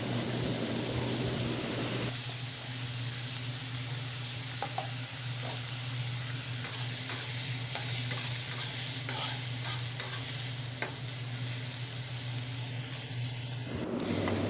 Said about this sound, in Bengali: টমেটোগুলা তেলের মধ্যে আমি কতক্ষণ নাড়াচাড়া করব একটু লবণ দিয়ে, যাতে টমেটোটা সিদ্ধ হয় খুব তাড়াতাড়ি।